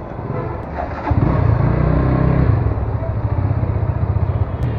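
A Loncin GP 165 motorcycle rides up onto the Rajarbagh flyover, its engine a steady, close, throbbing drone that swells slightly as it climbs, with road and wind rumble underneath.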